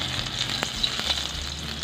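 Ginger sautéing in a pan, a steady close sizzle with a few soft stirring knocks, no talking.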